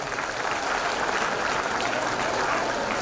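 Sustained applause fills a graduation ceremony hall as an audience claps for a student athlete honored with gold and silver medals in silambam, a steady, even wash of many hands throughout.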